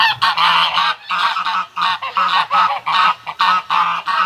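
A flock of Canada geese gives loud, repeated honks in a steady rhythm of harsh, nasal bursts, close and continuous without any voices.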